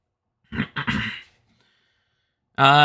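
A man still recovering from COVID coughs and clears his throat in a few close, rough bursts, then falls quiet before a voiced sound starts abruptly at the end.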